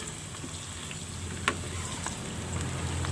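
Sweet potato slices frying in a pan give a steady, faint sizzle and crackle throughout, with one brief sharper pop partway through and no talking.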